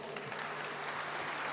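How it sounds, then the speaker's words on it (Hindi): A crowd applauds steadily, a dense wash of clapping hands that holds at an even level throughout. "एक बार जोर से इनके लिए तालियां बजा लीजिए"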